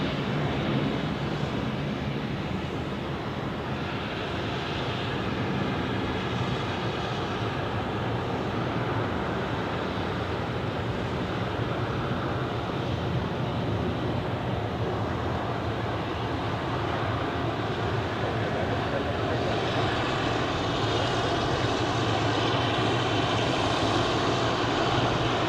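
An Edelweiss airliner on flight 18 to Halifax at Zurich airport produces a steady, broad jet engine roar that holds for the whole stretch, moderately loud and continuous, with no talking over it.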